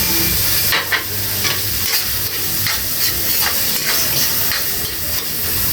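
Ground pork spaghetti sauce is stirred in a pan on the stove, a steady sizzle and steamy hiss running throughout with soft repeated scraping strokes of the spoon against the pan, close and alone.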